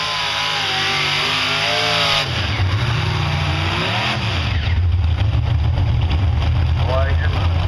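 A pulling tractor's engine roars and revs loudly at a tractor pulling event, the pitch rising and falling before settling into a heavy low drone, with someone talking over it.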